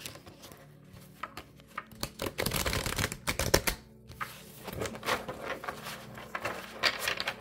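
Oracle cards being shuffled by hand, a close, crisp flurry of riffling and pattering bursts in uneven waves with no one speaking.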